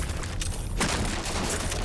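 Weapon fire in the video game RAGE 2, a dense burst of gunfire with booming impacts that swells at mid-clip and rumbles on, loud and close.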